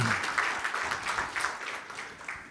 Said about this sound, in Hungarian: egy tapsot mindenképpen Szabolcsnak első körben